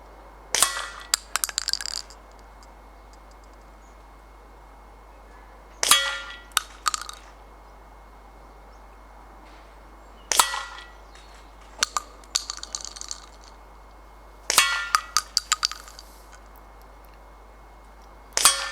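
A tuned John Bowkett Super 10 air rifle fires close to the microphone, four or five sharp cracks spaced a few seconds apart, each followed by quick metallic clicks and clatter from handling the gun or from pellets striking targets.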